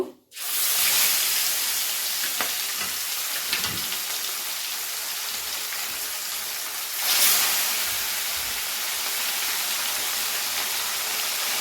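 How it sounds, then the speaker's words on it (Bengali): Bhetki fish bones sizzle in hot mustard oil in a pan, a loud steady hiss and crackle that flares briefly midway, with no voices. "এবারে আমি কাটাগুলোকে একটা একটা করে ভেজে নেব।"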